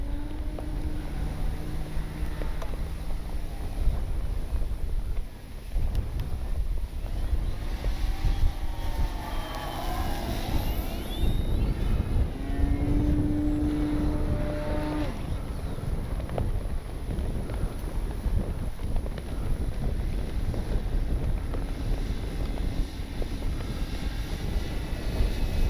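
An Avios Grand Tundra V2 RC airplane's motor whines steadily overhead in strong wind, its pitch rising and falling as it passes slowly, with constant wind rumble underneath.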